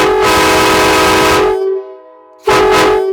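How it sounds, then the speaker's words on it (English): A homemade PVC copy of a K5LA train horn sounds two loud chord blasts, a long one of about a second and a half, then a short gap and a second shorter blast, close and alone. "I'm going to blow this for you to show you what it sounds like."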